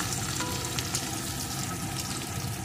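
Chopped onion frying in oil for a thin tilapia, potato and eggplant curry, a steady dense sizzle with faint crackles running evenly throughout, no voices.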